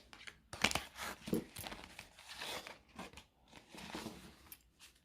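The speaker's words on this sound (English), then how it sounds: "So let's shuffle these cards and see how they shuffle." Crisp papery riffling and snapping bursts, repeated several times in quick succession, close up, like a deck of gilt-edged Lenormand cards being shuffled.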